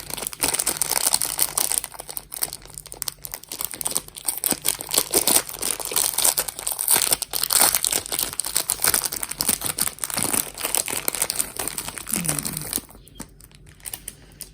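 Plastic packaging crinkling and tearing as a coral bead necklace is unwrapped, a continuous close, busy rustle that drops away near the end.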